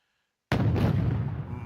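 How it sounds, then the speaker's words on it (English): A tank in Wargame fires a side shot, a single heavy cannon blast that bursts in after a short silence, then rolls off in a long, booming decay, loud and alone. "My tank side shot it and caused severe damage to it."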